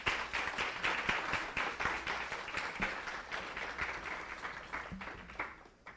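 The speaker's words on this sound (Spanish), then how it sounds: "Un aplauso, por favor." A modest audience breaks into brief applause after a science talk, a few seconds of steady scattered clapping, fairly quiet and distant, fading toward the end.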